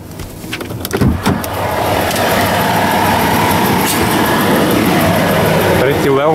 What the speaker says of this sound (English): This noise is coming from this truck.